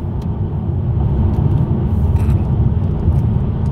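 A 2024 Cadillac Escalade V drives fast along a Texas road, giving a steady low engine rumble and road noise that swells slightly as it holds speed, with no talking.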